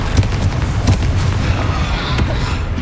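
Confringo blasting curse explosions in Hogwarts Legacy, several sharp booming bursts at irregular intervals over a continuous rumbling spell-combat background, loud and close.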